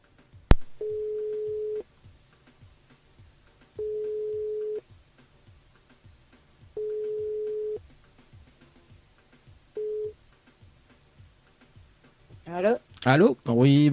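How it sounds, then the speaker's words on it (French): A telephone line gives repeated steady ringback tones, about a second each with pauses, while a caller's number is dialed on a live radio broadcast. A voice answers and speaks at the end. "Ma fille compose le numéro."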